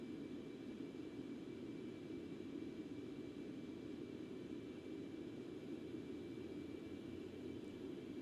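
Concorde jet engines at full throttle in X-Plane 11: a steady, unbroken, broadband roar with a low rumble and a thin high whine, constant throughout.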